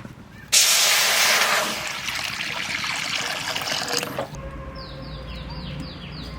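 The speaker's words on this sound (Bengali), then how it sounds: "আমটা একটু সেদ্ধ করব, তার জন্য একটু জল দিচ্ছি।" Water pours into a pot for boiling raw mango for a pickle, starting with a sudden loud splashing gush that settles into a steady trickle before cutting off, followed by a quieter background hum.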